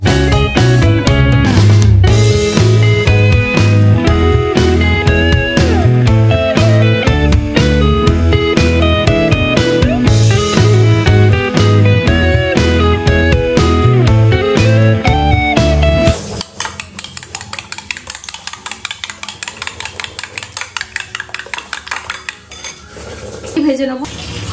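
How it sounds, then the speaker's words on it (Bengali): Four eggs are whisked in a bowl, fast rhythmic clinking of utensil against the dish, first under loud background music and then alone as a crisp steady beat. "4টে ডিম এখন ফেটিয়ে"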